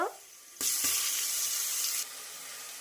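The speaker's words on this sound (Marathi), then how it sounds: "यानंतर यावर घालायचं आहे आपल्याला आलं लसूणची पेस्ट" Ginger garlic paste drops into hot oil with fried whole spices and cumin for masala rice, bursting into a loud, close, steady sizzle after a short quiet moment, then settling slightly softer.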